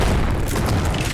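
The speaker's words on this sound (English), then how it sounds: "it's dropped a point in the sound as the shot loses its crisp punch for something more muffled" A single muffled shotgun blast from a first-person shooter game, a heavy dull boom lacking crisp punch that fills the moment loudly and alone.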